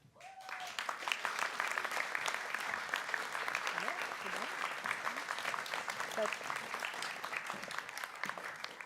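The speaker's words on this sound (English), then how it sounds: "Please give one more round of applause to our PhD graduates." Sustained audience applause for PhD graduates at an MIT advanced degree ceremony, a dense steady wash of many hands clapping that fills the hall from start to finish.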